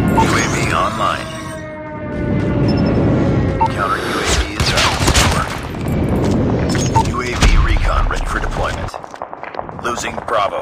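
Heavy booming explosions from a friendly airstrike in the mobile shooter Call of Duty Mobile, several loud blasts and crashes rolling over game announcer callouts and scattered gunfire across a busy match.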